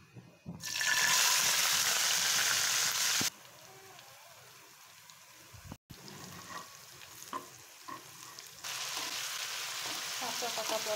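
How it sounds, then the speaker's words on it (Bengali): Raw and ripe pointed gourd frying in oil gives a loud, close sizzle that drops to a quieter crackle midway before flaring back up near the end, with no talking. "কাঁচা পাকা পটল দিয়ে একটু পটলের ভাজা তৈরি করছি।"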